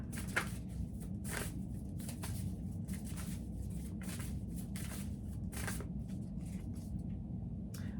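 Tarot cards shuffled and drawn for a reading, giving soft, repeated papery riffles and brushing strokes over a steady low background hum, close and fairly quiet.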